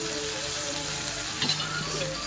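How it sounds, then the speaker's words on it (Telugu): Maggi noodles and egg omelette frying together in a pan, a steady close sizzle with a faint scrape or stir about halfway through and no talking. "అలా కొంచెం రెండు నిమిషాలు ఫ్రై చేసుకున్న మ్యాగీని ఎగ్ని రెండింటిని కలిపి"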